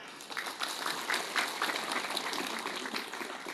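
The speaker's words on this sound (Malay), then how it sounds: "Tepuk tangan untuk semuanya." An audience at a lively Islamic religious lecture gives a modest round of applause, a soft, fairly distant patter of many hands that rises and holds steady without any speech.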